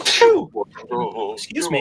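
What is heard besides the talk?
sneeze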